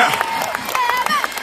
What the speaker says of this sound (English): How about a round of applause for Kevin Stewart?